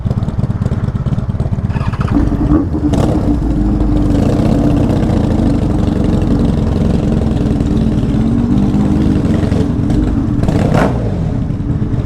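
A Honda VFR 750F motorcycle engine idles close by, a loud, steady mid-pitched rumble that holds without a break, with a couple of brief sharper clicks or knocks over it.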